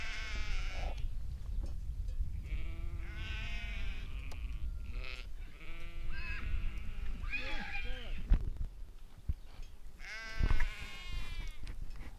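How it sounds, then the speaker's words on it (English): A herd of sheep roams a grassy pasture alongside dogs, with repeated bleats rising near and far in an overlapping chorus while a person talks calmly through most of it. "this sheep herd and these sheep roaming here with these dogs gives actually such a calm feeling."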